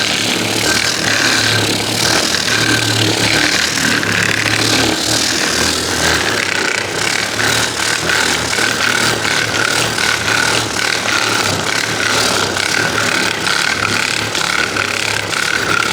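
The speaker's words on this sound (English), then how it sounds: "I'm sanding this in real time so you can see how well it works." A roughly 50-year-old vintage pad finish sander works across wood, giving a steady, continuous buzzing hum with a scraping rub that runs unbroken and fairly loud throughout, with no speech.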